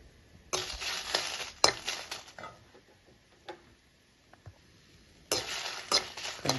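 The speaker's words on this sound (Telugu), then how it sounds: "కళాయిలో వేసుకుని వెంటనే ఎండుమిర్చి పోసేసుకున్నాం దాంట్లో" Dried red chillies fry in oil in a kadai, giving loud bursts of crackling sizzle with stirring scrapes, then a quieter lull before the sizzling flares up again.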